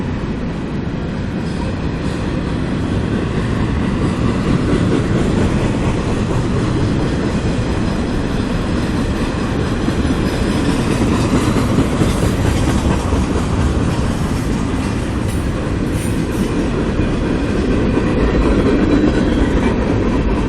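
A CSX freight train rolls past the platform at Folkston, a busy rail town, as a loud, continuous rumble with rail clatter and wheel noise. It stays close and steady for about twenty seconds, and nobody speaks.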